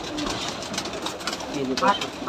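Giribaz pigeons on a farm in Rajshahi coo softly in a short burst, fairly close, with a voice talking alongside.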